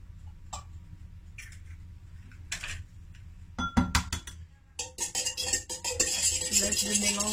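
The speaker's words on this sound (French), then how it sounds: "je vais séparer les blancs des jaunes" Egg whites are being separated from yolks in a bowl, with sharp shell taps, clinks and scraping of utensils against the bowl, growing busier and louder toward the end, no talking.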